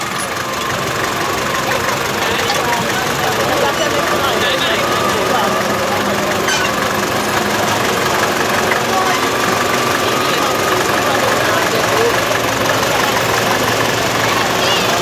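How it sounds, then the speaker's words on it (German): Modern 170 hp tractor hooked up at a German tractor pulling event in Schlagresdorf, its engine droning steadily and loudly for the whole stretch amid a busy outdoor crowd din. "Dann wird jetzt mal ein moderner Trecker mit 170 PS angehängt"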